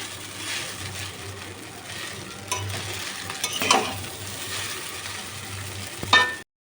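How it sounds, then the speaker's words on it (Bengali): Chow mein noodles with a chow mein spice mix are stir-fried in a pan in a home kitchen, giving a soft steady sizzle broken by scraping and clinks of the spatula, with a louder scrape near the end. "চাউমিন মিক্স মশলাটা দিয়ে আরও বেশ কিছুক্ষণ নাড়াচাড়া করে ভাজা ভাজা করে নেবো চাউমিনটা"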